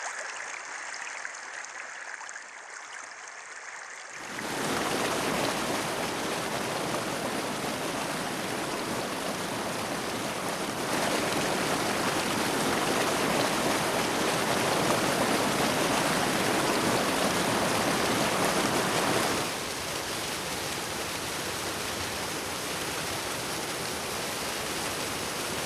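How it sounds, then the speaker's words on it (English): Water bursting out of porous karst rock at the foot of a mountain near Hallstatt, a loud continuous rushing roar that starts abruptly after a few quiet seconds and holds steady, close and alone. "The water bursts out at the foot of the mountain."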